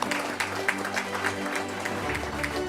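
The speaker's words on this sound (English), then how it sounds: "Let's just give them a round of applause" Applause at an agricultural and fisheries recognition ceremony, fairly sparse, moderate clapping with distinct individual claps over a low steady hum, lasting a couple of seconds.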